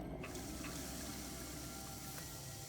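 A water tap running steadily aboard the space station in the Prey video game, a constant faint rushing hiss with no pauses or voices.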